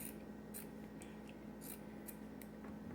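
Scissors cut through a t-shirt with a series of quiet, crisp snips at irregular intervals over a low background hum, with no talking.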